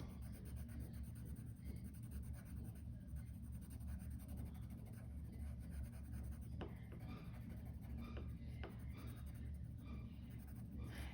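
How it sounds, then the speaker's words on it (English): Colored pencils scratch steadily across paper, a soft continuous scribbling close by over a low hum, with a few sharper strokes near the end. "I'm going to use those colored pencils and I'm going to start coloring stuff in"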